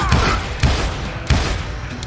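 Heavy, booming gunshots in the video game Call of Juarez Gunslinger, three loud blasts roughly evenly spaced over a dense rumbling background.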